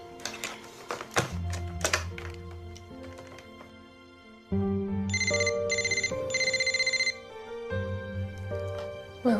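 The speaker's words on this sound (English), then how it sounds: "I'll call his cell phone." A cell phone rings with a repeating electronic ringtone pattern, steady pulsed bursts that start after a few thunks and taps and continue several seconds, fairly close and loud.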